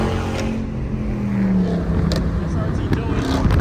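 A catless Dodge Charger RT drives on a highway, its exhaust droning loud and close with a pitch that sweeps down and then holds, while voices talk over it.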